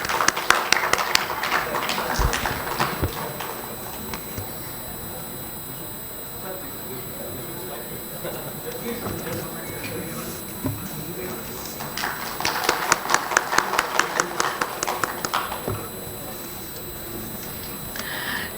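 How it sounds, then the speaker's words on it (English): Applause at a stock-market technology exhibition in Ahmedabad, with bursts of sharp clapping near the start and again toward the end, and quieter room noise and speech between them. "Can we have a big round of applause, please?"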